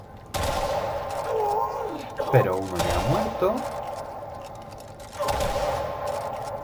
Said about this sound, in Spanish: ¿Qué pasa si yo sigo disparando? Vamos a disparar un par de veces más.